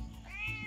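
A cat begging for food lets out a single drawn-out meow, close and fairly soft, rising then falling over a low background hum.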